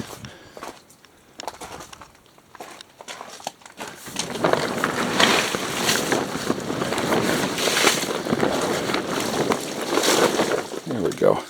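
A person speaks, then rainwater pooled on a tarp canopy spills off in a loud, sustained rushing splash once the tarp is pushed up from underneath, continuing in uneven surges.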